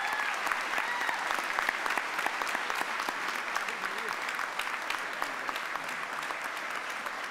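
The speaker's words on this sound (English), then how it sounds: "how about another thunderous round of applause for all of our nominees and award winners tonight." A large audience at a civic and community awards gala gives sustained, thunderous applause for nominees and award winners, dense even clapping throughout with a few voices faintly mixed in.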